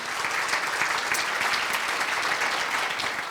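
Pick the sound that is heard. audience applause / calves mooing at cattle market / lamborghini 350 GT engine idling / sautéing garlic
audience applause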